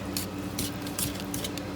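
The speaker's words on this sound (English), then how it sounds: "I need to spray this with cooking spray first." Cooking spray hisses into a brownie pan in a home kitchen, a few short bursts in quick succession, close and fairly loud, with no talking.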